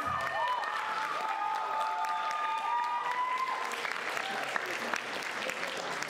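Sustained applause from a crowd at a song and songwriting contest fills the space, a dense steady clatter of many hands, with faint tonal sounds and light cheering underneath.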